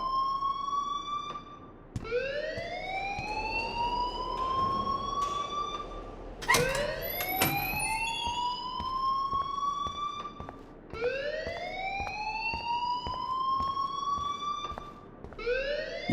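An electronic alarm in Life Is Strange wails in repeated rising sweeps, loud and close, cycling several times with brief breaks between them.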